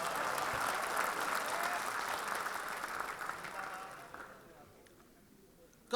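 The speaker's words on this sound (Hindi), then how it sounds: "इनके लिए तालियां बजा दीजिए।" A dense wash of applause fills a mushaira and kavi sammelan poetry gathering in Dubai, steady and loud at first, then thinning and fading to near silence over several seconds.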